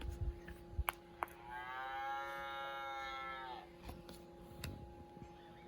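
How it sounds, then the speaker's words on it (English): A cow moos once in a long, drawn-out, tonal low call in a farm setting, heard alone with a few soft clicks before it and quiet afterward. "Can you moo like a cow?"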